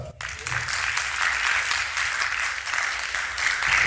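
Audience applause at a school district panel discussion following a documentary screening, a dense, sustained round of clapping that starts abruptly and holds steady and fairly loud to the end, with no talking.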